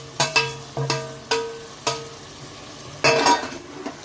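Mutton being sautéed in a pan with onion and tomato for dum biryani, several sharp scrapes and knocks of a spoon against the pan over a low background sizzle, with no talking.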